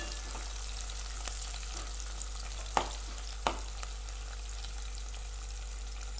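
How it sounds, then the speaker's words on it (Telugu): Garlic frying gently on a low flame, a soft steady sizzle running throughout with a couple of sharp clinks from a utensil. "వెల్లుల్లి, సన్నగా సిమ్లోనే పెట్టి వేసుకోవాలండి."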